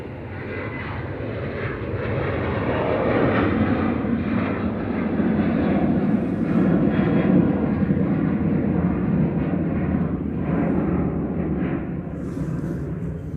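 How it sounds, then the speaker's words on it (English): A Ryanair Boeing 737-800 run by Malta Air takes off from Manchester Airport, a broad, sustained jet roar that swells and holds steady for about thirteen seconds, with no talk over it. "Ryanair 1737 to go next. Should be on the roll already."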